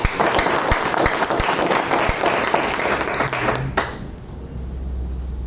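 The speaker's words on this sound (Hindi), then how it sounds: "एक बार जोर से ताली होनी चाहिए" Loud crowd applause at a seminar in Lucknow, dense clapping from a large audience that carries on steadily, then cuts off abruptly, leaving a low hum of room noise behind.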